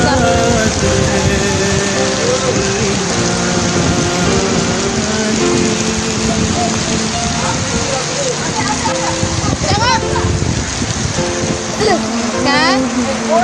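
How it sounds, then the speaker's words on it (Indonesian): A hailstorm in Bangkinang: dense, steady pounding of hailstones on surfaces, loud and continuous, with people talking over it. "Hujan es batu, Yung Kinang."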